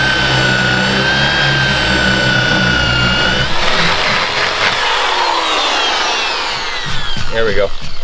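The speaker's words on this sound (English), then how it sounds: "I always like using a quarter drill for this type of thing." A quarter-inch drill boring into wood while building a portable folding firewood sawbuck, a loud steady motor whine for about three and a half seconds, then rougher grinding as the bit works through the timber.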